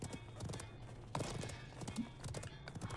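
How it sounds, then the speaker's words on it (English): Horse hooves clop with jangling metal armor in a medieval video game, a quiet, uneven run of hoofbeats and clinks heard close up. "Those metal sounds on the horse seem loud, do you think?"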